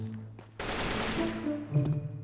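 A gunshot in a first-person shooter game fires as a sudden loud burst that cuts in and rings out with a noisy tail, with game ambience and faint tones around it.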